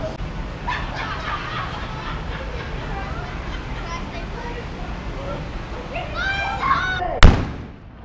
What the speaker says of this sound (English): the cannon's gonna go off straight ahead from that gold thing